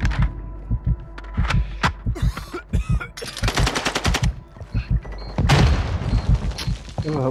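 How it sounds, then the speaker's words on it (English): Automatic gunfire in the video game Call of Duty: Modern Warfare II rattles in sharp, loud bursts and single shots, mixed with game effects and brief voices. "Taking effective fire!"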